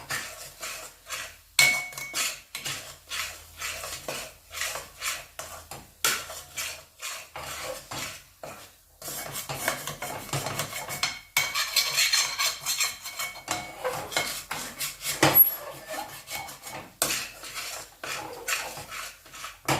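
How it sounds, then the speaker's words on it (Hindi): A spatula scrapes and knocks rhythmically against a hot heavy kadhai as khoa is stirred, giving repeated close metallic scrapes and clatters with no voices. "अभी 5 मिनट तक इसको और ऐसे ही चलाते रहेंगे, वरना कढ़ाई गर्म है, नीचे जल जाएगा"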